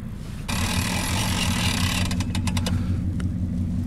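A pickup truck engine idling and rumbling while backing a fishing boat down a flooded concrete launch ramp, a steady low drone that jumps louder partway through, then a few sharp clanks and knocks near the end.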